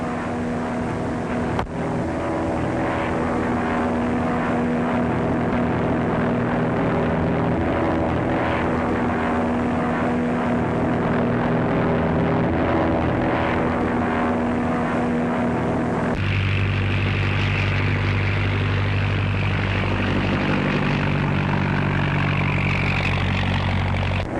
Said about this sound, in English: I know the plane.